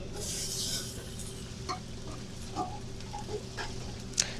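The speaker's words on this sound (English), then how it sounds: "Now I'm gonna saute my peppers and onions." Peppers and onions sizzle in a pan with a steady low hiss, broken by scattered stirring scrapes and clinks, close and fairly quiet with a sharper knock near the end.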